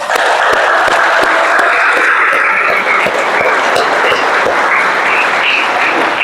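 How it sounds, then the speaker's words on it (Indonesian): Steady, loud applause from a church congregation at an altar servers' installation, dense clapping filling the space without a break. "Mari kita tepuk tangan untuk mereka semua."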